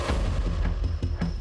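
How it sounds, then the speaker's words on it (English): Gunshots crack out on a quiet residential street at night, a series of dull, evenly spaced booms in rapid succession, muffled and somewhat distant, with no voices. "there were potentially gunshots"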